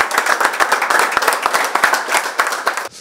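Close, lively clapping for a U15 regional youth football team celebrating a 6-1 win, a dense burst of distinct hand claps from a small group that fades out at the end.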